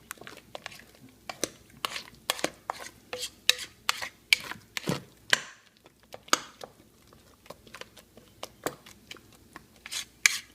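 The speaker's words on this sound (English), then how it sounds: "So basically you just stir this in, and it doesn't say stir it in a lot, it just says lightly stir this in" A spoon lightly stirs whipped topping into a Dole Whip mixture, producing irregular soft scraping and tapping strokes against the bowl, close and fairly quiet, with a short pause midway.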